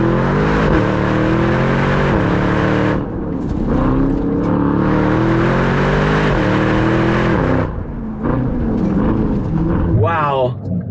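A powerful SUV engine driven hard in Sport Plus mode, loud and close, with repeated rising revs through gear changes and brief dips between them, with talking over it.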